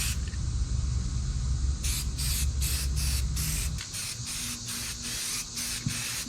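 Spray paint hisses in a continuous light coat onto a cracked plastic John Deere X304 lawnmower hood, a steady broadband spray with short rhythmic bursts near the end.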